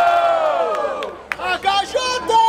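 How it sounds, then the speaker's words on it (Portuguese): A loud crowd roars and cheers at the grand final of a Brazilian street rap battle, the Batalha da Aldeia in Barueri, São Paulo, with whoops and shouted calls swelling in waves over a sustained tonal backing. "Barulho para as rimas do Mike"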